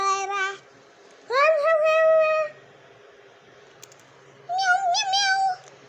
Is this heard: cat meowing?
yes